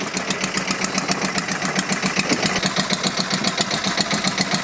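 A boat engine runs with a fast, even chugging knock, a steady mechanical beat at mid loudness with no voices over it.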